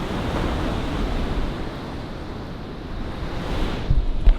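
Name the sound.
ocean waves at Waitpinga Beach, South Australia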